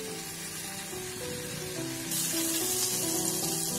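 Four coarsely crushed garlic cloves fry gently in butter in a pan for a creamy spinach soup, a steady, close, even sizzle that grows a little louder and brighter partway through, with no talking.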